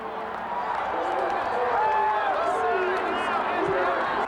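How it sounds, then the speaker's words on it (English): Grandstand crowd at the 1994 Indianapolis 500 forms a steady, loud roar with race cars whining past, heard under a commentator's voice. "You should hear the crowd."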